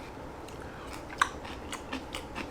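Radish kimchi being chewed, a few soft crunchy bites and mouth sounds spread over a couple of seconds, fairly quiet and close with no talking.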